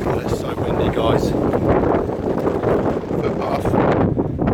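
Blustery wind roars steadily across a mic on a coastal footpath of the Solent Way, loud and continuous for several seconds while someone speaks over the buffeting.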